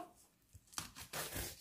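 A magazine's free gift packaging is torn open by hand without scissors, giving close, sharp ripping bursts: one quick tear, then a longer rasping pull.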